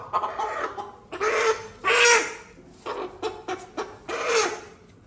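Several chickens cluck and squawk in short, irregular bursts at moderate distance in a Konkan village near Malvan, with quiet gaps between calls and no talking.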